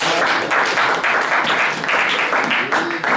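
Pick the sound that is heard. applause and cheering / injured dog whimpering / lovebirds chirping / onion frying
applause and cheering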